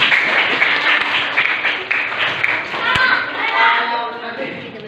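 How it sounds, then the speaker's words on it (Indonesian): Pupils in a classroom clap their hands in a sustained burst of applause, with children's voices and a sharp thump mixed in. "Oke, tepuk tangan"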